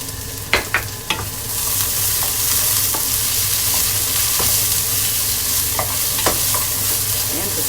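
Onion hitting a hot pan, a few sharp clatters up front giving way to a loud, steady sizzle with occasional stirring knocks, close and uninterrupted.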